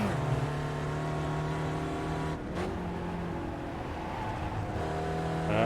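A Spec Racer Ford race car in iRacing at Oran Park drones loudly at high revs, dips briefly in a gear shift, then climbs and holds its steady buzzing tone again.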